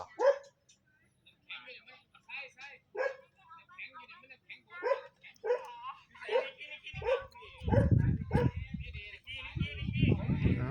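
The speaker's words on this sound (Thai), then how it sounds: "นิกกี้เห่าพี่ตัวมอน ขนาดเห็นอยู่เป็นหลายอาทิตย์แล้วนะครับเนี่ยยังเห่านะ" A dog gives a string of sharp, high barks and yips at an irregular pace, moderately close, joined in the second half by a loud, low rumbling noise.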